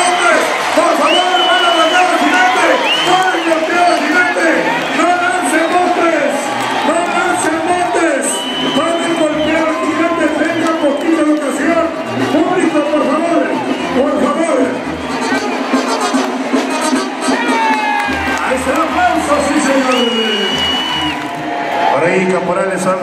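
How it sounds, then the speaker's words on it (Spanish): Rodeo crowd at a ranch event in Autlán, Jalisco, cheering and whooping loudly with scattered applause, while an announcer's amplified voice talks over the steady roar. "Ahí está el aplauso, señoras y señores"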